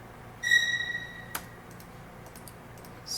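First violins from a Spitfire LABS Scary Strings library strike one short, sharp, loud attack at full dynamics, a bright stacked tone that cuts off quickly, followed by quiet clicks.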